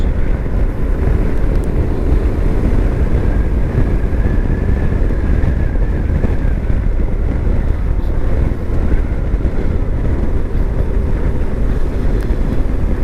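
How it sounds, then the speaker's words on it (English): Strong wind roars steadily and loudly across the microphone on a choppy, rainy day in Perthshire. The rush is dense and unbroken for the whole stretch, with no one talking. "That gives you an idea how windy it is actually."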